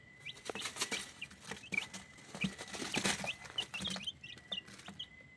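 Three young chicks, about ten days old, chirp in quick, high, repeated peeps close by, overlapping in lively bursts with brief pauses.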